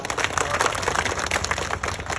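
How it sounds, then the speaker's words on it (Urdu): Enthusiastic applause from a crowd at a public gathering, welcoming a guest: dense, continuous clapping that stays fairly steady for about two seconds, with no talking over it. "ان کے لیے ایک بار زوردار تالی سے ان کا استقبال کریں"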